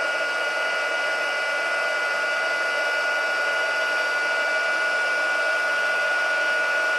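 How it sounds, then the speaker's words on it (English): A heat gun blows steadily and loudly over embossing powder on a stamped card, a continuous whooshing fan-and-heater roar that runs unbroken for the whole stretch with no talk. "hit it with our heat gun again"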